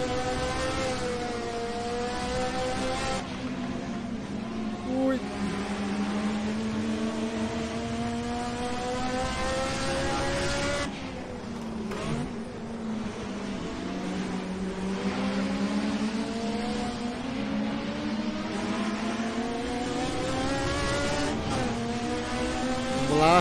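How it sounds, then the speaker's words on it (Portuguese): Race car engine in Assetto Corsa at Mugello, a loud continuous turbocharged roar with rising and falling revs through gear changes as the turbo spools in, no talking. "Aí o turbo entra, cara."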